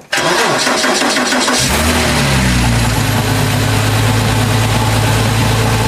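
Porsche engine with a straight-through exhaust cranks briefly, then fires into a loud, rough, throbbing idle that holds steady close by.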